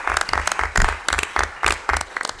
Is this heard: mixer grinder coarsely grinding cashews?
no